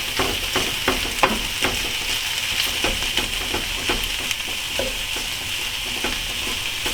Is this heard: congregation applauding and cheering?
no